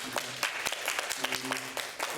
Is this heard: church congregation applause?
yes